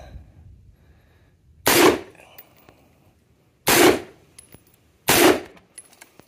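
Three loud gunshots are fired at a target, sharp reports spaced a second or two apart, each with a short echoing tail, over a quiet outdoor background.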